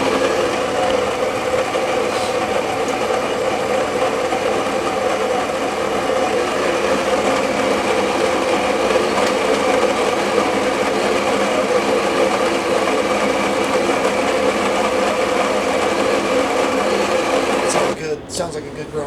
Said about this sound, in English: Grind some coffee into there.